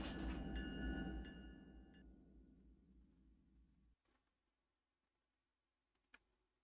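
A freight train departing in the Run 8 train simulator game on the NS AGS route, a loud low rumble with a steady horn-like tone that fades over a few seconds into near silence, ending with a faint click.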